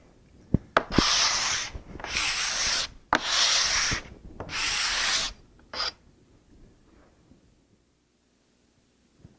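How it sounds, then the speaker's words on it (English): A cabinet card scraper is pushed and pulled across wood, raising feather-like shavings in five bursts of loud, close, raspy scraping with short pauses between them, followed by quiet. "I can push the card or I can pull it and produce feather-like shavings"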